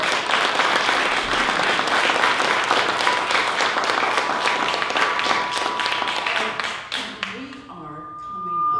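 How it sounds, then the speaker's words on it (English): An audience at a university anniversary panel gives a round of applause that stays full and loud for several seconds, thins into a few last claps, then fades as a voice begins. "Let's do another round of applause."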